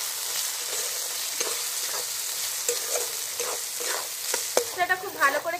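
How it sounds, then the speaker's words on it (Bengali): Spices with Kashmiri red chili powder and a little ground cumin being stirred and fried in a pan, a steady hiss under repeated spatula strokes that grow louder and more clattery toward the end. "দিয়ে দেবো কাশ্মীরি রেড চিলি পাউডার, অল্প একটু জিরে গুঁড়ো দিয়ে এটাকে খুব ভালো করে আবার একটু কষে নেব"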